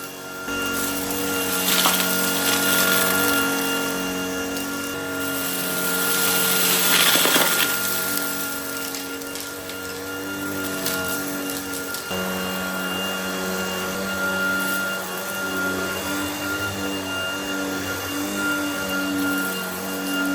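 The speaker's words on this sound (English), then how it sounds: "To finish off the job on boost mode now." A Shark ICZ300UKT cordless upright vacuum cleaner runs on boost mode with a loud, steady motor whine and hum that holds throughout, shifting slightly in pitch as it moves, with no talking.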